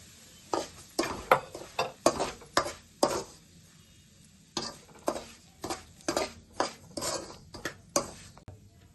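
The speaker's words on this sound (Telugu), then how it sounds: "ఈ నెయ్యిలో రవ్వ వేపుకుందాం." Semolina (rava) roasting in ghee in a pan for rava laddu, stirred with a utensil: close, rhythmic scraping clinks in two bursts of strokes with a short pause between, no voices.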